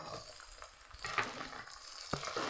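Green chillies and curry leaves frying in a hot pan for a chicken gravy, a steady close sizzle with a few sharp crackles and pops and a brief stirring scrape, no talking.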